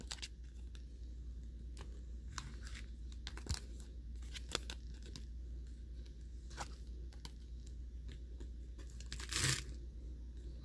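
Tarot cards gathered and handled on a table: soft, scattered clicks and papery rustles with a brief louder shuffle near the end, quiet over steady low hum, with no talking.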